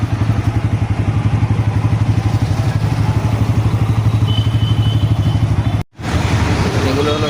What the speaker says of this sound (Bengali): এগুলো হলো সব মোটরসাইকেল